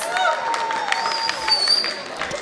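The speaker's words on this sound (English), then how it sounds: "please welcome them with a big round of applause" Audience applause at a corporate event greets a performing team, a bright spattering of clapping with scattered cheers, mixed with a host's amplified voice and background music.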